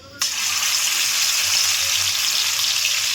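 Green chilli paste hits hot mustard oil with a sudden loud onset, then settles into a steady, close, bright sizzle that holds without a break and has no voice over it.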